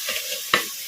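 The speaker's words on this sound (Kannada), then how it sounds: "ಲೋ ಫ್ಲೇಮಲ್ಲಿ ಇಟ್ಕೊಂಡು ಒಂದು ಸ್ವಲ್ಪ ಹೊತ್ತು ತಟ್ಟೆ ಮುಚ್ಚಿ ಫ್ರೈ ಮಾಡ್ಕೊಂಬಿಡೋಣ" Chicken frying in a covered pan over a low flame, giving a soft steady sizzle with one brief clank near the middle, likely the lid or a utensil.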